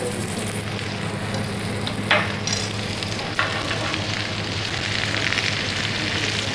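Tomatoes, garlic and coriander sauté in oil over a low flame, a steady broadband sizzle running throughout with a couple of brief louder spits and stirring clicks near the start, close and continuous with no talking.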